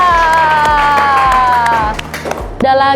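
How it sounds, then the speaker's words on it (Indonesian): A classroom group claps along in a steady rhythm for a few seconds, with a sustained tonal hum running through it and a brief burst of louder sound at the end. "kita tepuk tangan untuk Nabila"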